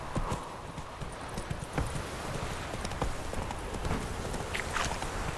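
Roach, the horse from The Witcher 3, trots along with a quick, even clip-clop of hooves that stays fairly close and steady throughout.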